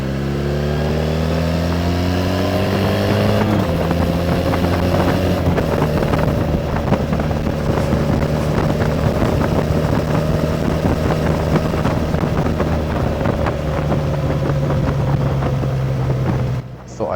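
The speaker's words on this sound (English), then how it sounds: "I'd shut up while the bike was revving away there." A Triumph Bonneville T214 motorcycle engine revving steadily nearby, its pitch rising and settling into a sustained drone over wind rumble, loud and continuous throughout.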